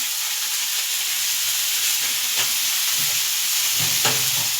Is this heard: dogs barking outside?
no